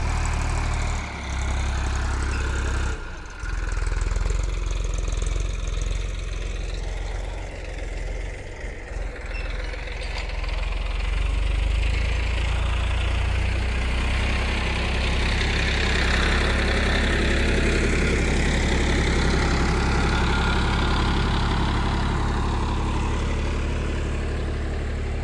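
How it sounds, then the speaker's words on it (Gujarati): A tractor engine drones steadily and loudly while ploughing a farm field ahead of wheat sowing, a continuous low rumble with a brief dip near the start and no talk. "ટ્રેક્ટર છે તે ખેડી રહ્યું છે તેનું"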